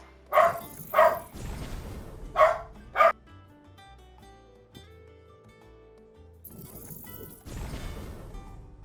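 A dog indoors barks four sharp, close times in two quick pairs, then falls quiet while low electronic background sound continues; a longer, rougher burst follows near the end.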